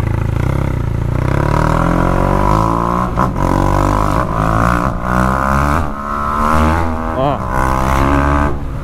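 A BMW 1200 motorcycle engine heard while riding, a loud close drone whose pitch rises and falls with the throttle, mixed with wind rush and what may be a voice.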